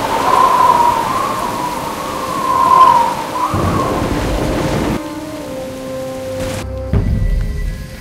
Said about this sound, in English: the rain's easing up.